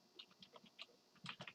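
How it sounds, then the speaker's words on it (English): Keys tapped on a computer keyboard in short irregular bursts, quiet and close, with a denser flurry of clicks toward the end. "Typing all backwards."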